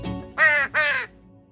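A crow gives two harsh, loud caws in quick succession, close by and alone, followed by quiet.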